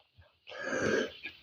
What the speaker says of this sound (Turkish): Bugünlerde öksürük tutuyor.